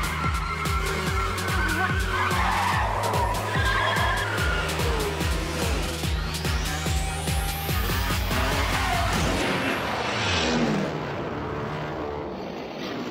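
Cartoon race car accelerating hard with squealing, skidding tires, a loud continuous engine roar climbing in pitch over busy background music, then fading out near the end.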